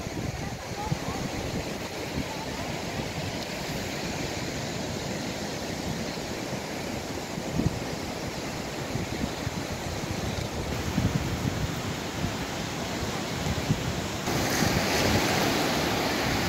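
Surf rolls in continuously at Marenys de Rafalcaid beach in Gandía, Spain, a dense roar of breaking waves with wind rumbling over it, swelling slightly louder toward the end.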